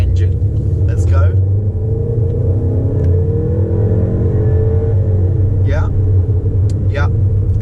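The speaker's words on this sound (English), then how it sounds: "Small engine, but actually pretty powerful engine." A 2020 VW Tiguan R-Line with a 230 hp TSI engine and 4Motion rumbles deep and steady from inside the cabin as it accelerates, with brief voices breaking in over the engine.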